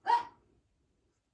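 A small dog gives one short, sharp bark close by at night indoors, followed by silence.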